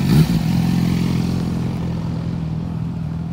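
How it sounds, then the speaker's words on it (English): A Triumph Bonneville motorcycle engine at a Sacramento bike night, with a sharp burst of throttle at the start that settles into a steady, close, loud engine drone with no talk over it. "Come on, man, give me some revs, man."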